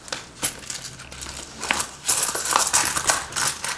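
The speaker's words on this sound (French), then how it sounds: "Vous entendez, ça fait des bruits de pièces." Coins clinking and jingling inside a monthly savings envelope, a close series of bright metallic clinks and rustles as the envelope is shaken and handled.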